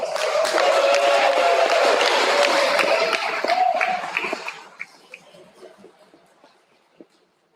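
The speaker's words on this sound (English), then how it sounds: "So if you would, please give them a round of applause." An audience at a high school awards ceremony bursts into sustained applause with some cheering, loud and full for several seconds before thinning to scattered claps.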